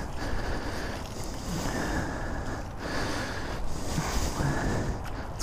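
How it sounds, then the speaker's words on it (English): Water spraying over a 2020 BMW F900XR motorcycle during a gentle wash-off, a steady loud hissing rush with slight surges and breaks, no speech. "Just give her a light little gentle washing off."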